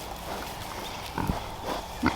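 On a Vermont farm in summer, a pig gives a couple of low grunting oinks over steady outdoor background noise.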